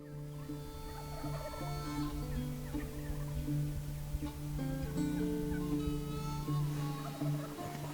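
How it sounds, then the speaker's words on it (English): Wild turkey gobbler gobbling during Nebraska spring turkey season, repeated rattling gobbles at moderate distance over a steady outdoor background, no talk. "Gobbler to our right here is just hammering"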